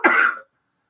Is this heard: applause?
no